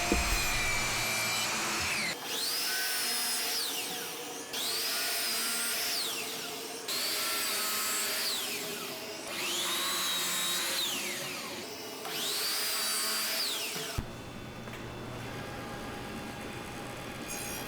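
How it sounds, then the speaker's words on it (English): A table saw makes repeated crosscuts on drawer workpieces set against a stop block on a crosscut sled, each one a loud whining burst of blade through wood, about five in a row, with brief spin-down pauses between them. "I will place the dovetail portion up against my stop block, and then I will proceed to cut off the end of the piece."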